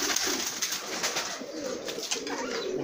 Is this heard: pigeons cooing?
yes